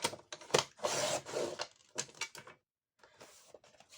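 Paper or card being cut for an ATC craft piece, a run of close, rough rasping strokes and short snips that stop for a brief pause and then resume more faintly.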